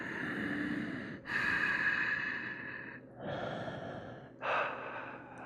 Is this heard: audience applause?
no